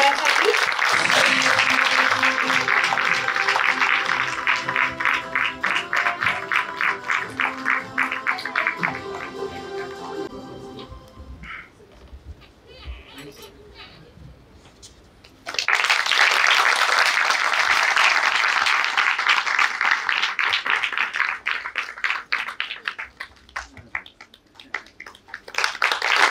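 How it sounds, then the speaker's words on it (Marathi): An audience claps loudly in sustained waves at an awards ceremony honouring women entrepreneurs, fading to quieter patter with a voice over it, then surging back into full applause. "जोरदार टाळ्या वाजवायच्या सगळ्यांसाठी"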